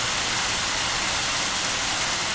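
Heavy storm rain pours down at sea during a fierce storm, a dense, loud, constant hiss of downpour with no breaks and no voices.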